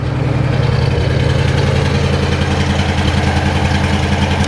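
A 1973 Pontiac Grand Am with a 400 engine idling on choke, heard at the rear: a steady, low, subdued exhaust burble with an even pulse, continuous and fairly close, with no talking.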